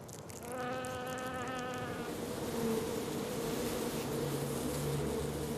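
Wasps buzz in a steady, close drone with a wavering pitch, and one insect's whine stands out early before blending into a continuous hum.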